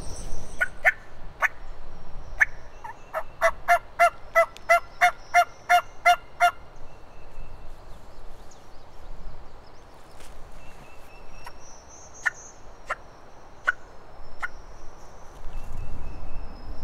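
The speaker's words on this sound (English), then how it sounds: "until he gobbles again" A wild turkey gobbler in a field on public land in the South, heard from a distance as a few loud rattling gobbles, first repeatedly and then at spaced intervals, with faint wind and rustling behind.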